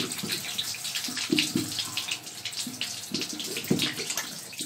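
Water from a shower runs in a steady, hissing broadband rush with small splashing fluctuations, close and continuous throughout, no voices.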